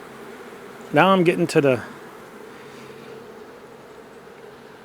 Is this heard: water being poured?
no